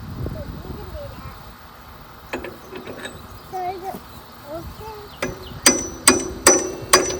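Hammer strikes ring out: a few scattered taps early on, then four or five loud metallic blows in steady rhythm near the end, with soft talk in the background.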